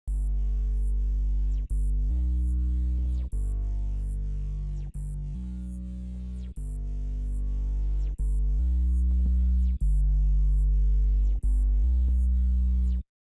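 A heavy synth bass from the Serum Bass Sketch preset, highs cut away, pulses in a looping FL Studio beat pattern, deep sustained notes with brief gaps and pitch dips, loud and unaccompanied.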